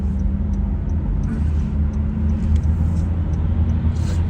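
Steady low engine and road rumble from inside a moving car on rough roads, a continuous droning hum filling the whole stretch with no talking.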